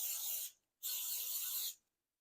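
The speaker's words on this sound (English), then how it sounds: "I am not going to use liners for my pan. I'm just going to spray it." Cooking spray hisses onto a muffin pan in two steady bursts, the first about half a second long and the second nearly a second, with a short pause between them and nobody speaking.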